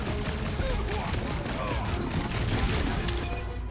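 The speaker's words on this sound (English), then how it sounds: "Who starts a gunfight near a reactor core?" Gunfight near a reactor core in Marvel's Guardians of the Galaxy on PlayStation 5, dense loud bursts of gunfire and crashes under voices and busy game noise.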